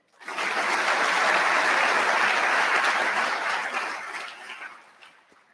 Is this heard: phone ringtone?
no